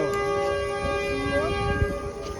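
A train idles at Kila Sobha Singh railway station in Pakistan, giving a steady, loud tonal drone like a held horn or engine hum. Faint background bustle sits underneath.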